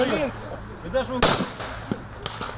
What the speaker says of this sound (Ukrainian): стріляли по мішенях